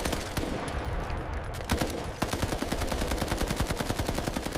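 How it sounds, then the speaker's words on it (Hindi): Second World War machine guns rattle in a dense, continuous stream of sharp rapid shots, loud and close, layered with distant battlefield rumble. "मशीन गन्नों ने आग उगलना शुरू कर दी"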